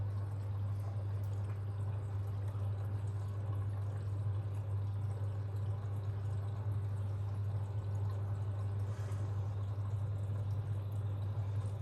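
A Beko washing machine fills with water during a cycle under low water pressure, giving a continuous steady rush of pouring water over a low, constant hum, with no voices.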